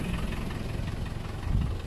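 Low rumbling of a car engine idling nearby, a steady throbbing hum with a slight surge near the end, no voices.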